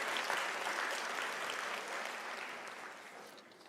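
Audience applause at a University of South Africa autumn graduation ceremony: a dense, sustained burst of many hands clapping, loud at first and tapering gradually over a few seconds, with no voices on top.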